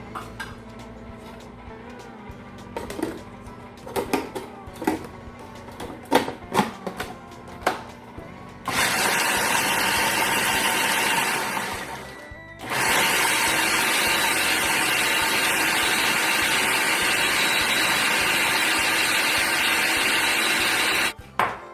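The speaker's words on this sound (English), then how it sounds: "To our food processor, I'm going to add a cup of chopped pecans." A food processor chops a cup of pecans: a few seconds of clattering bowl and lid knocks come first, then the motor roars loudly and steadily in two long pulses separated by a brief pause.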